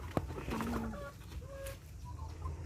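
Chickens cluck softly at moderate distance on a farm, a few short tonal calls and drawn-out clucks spread over a low background hum.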